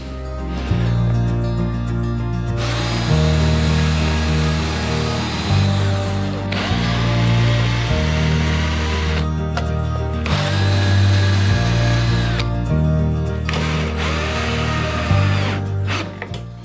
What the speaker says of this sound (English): So now I can just screw in the block